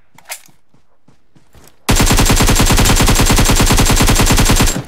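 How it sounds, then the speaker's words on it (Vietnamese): Rapid automatic gunfire in the PUBG Mobile video game, a loud, close, sustained burst of evenly spaced shots lasting about three seconds after a few faint footstep-like clicks and a single soft pop, no talking. "Có thằng bắn VDS ở đây mà."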